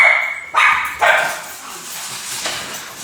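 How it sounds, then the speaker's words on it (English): Dogs bark indoors or nearby: two loud close barks in quick succession, followed by fainter yips and a softer bark, with no one speaking over them. "I swear those dogs are gonna really chap my hide"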